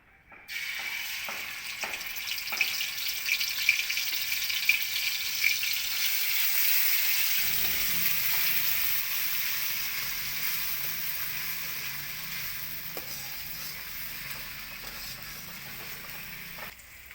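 Paste of garlic and green chili hits hot oil and erupts into a loud, dense crackling sizzle that slowly settles into a steady hiss, with a few early clicks of a utensil and no speech.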